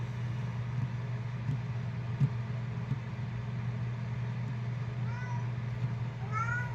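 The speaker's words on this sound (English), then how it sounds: "Oh, my cat's in here." A cat meows in a room beside a computer under test, with a few rising mews near the end over a steady electrical hum and whirring fans.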